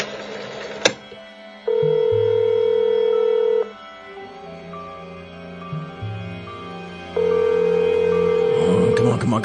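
A telephone ringing inside an office in a video game, loud electronic ring bursts in long even pulses with pauses between them, alone without talk.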